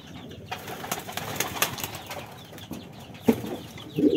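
King pigeons in a loft make soft, low cooing calls, a few short throaty coos near the end over a quiet background of shuffling and faint wing movement.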